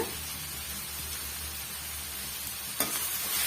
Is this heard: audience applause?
no